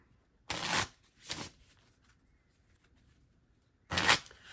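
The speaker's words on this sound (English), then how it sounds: "that's enough shuffling" A deck of playing cards is shuffled in three quick riffling bursts, two close together and then one more after a quiet pause, crisp and near.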